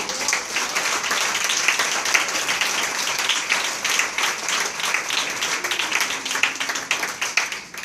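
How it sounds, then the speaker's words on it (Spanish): A church congregation applauds in a steady, dense burst of clapping that fills the room evenly throughout, with no talk over it. "Un aplauso al Rey de Reyes."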